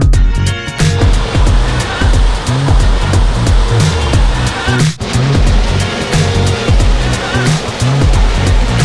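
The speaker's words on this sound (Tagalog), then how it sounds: "Ang tubig na umaagos dito ay galing sa mga bundok ng Infanta" Mountain-fed water rushes steadily at a natural pool resort in Infanta, Quezon, a loud, continuous roar close by.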